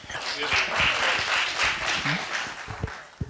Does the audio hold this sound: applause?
yes